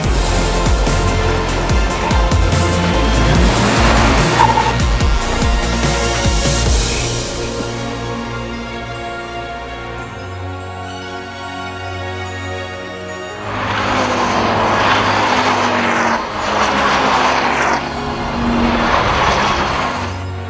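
Lamera Cup race cars circling the Jarama circuit, engines roaring loud and close as cars pass, fading to a quieter stretch before another loud burst of several cars going by.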